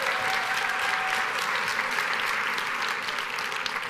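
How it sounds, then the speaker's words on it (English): A keynote audience of about 450 administrators in a Las Vegas hall gives a big round of applause, a dense, steady wash of clapping that holds loud and even throughout. "Big round of applause."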